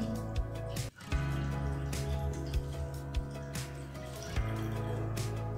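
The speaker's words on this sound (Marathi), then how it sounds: "डाळीतलं संपूर्ण पाणी काढून घ्यायचं आहे।" Rinse water is drained from washed chana dal (split chickpea lentils), with wet drips and squishy pouring sounds running continuously and close, with occasional ticks against a steady watery background.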